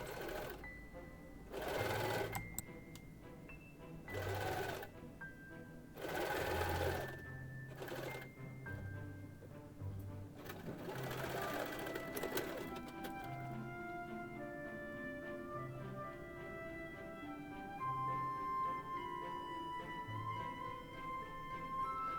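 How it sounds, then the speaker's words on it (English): A sewing machine stitches a child's fabric face mask, running in several short whirring bursts with pauses between them, followed by quieter mechanical clicks and handling sounds. "we had to sew both in for the earpieces, and also sew over the bottom one more time."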